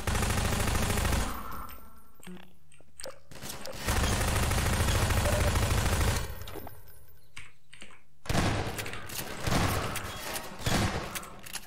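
A sniper shotgun fires in the video game Facade, with loud bursts of gunfire alternating with quieter stretches and rapid clicking over roughly twelve seconds.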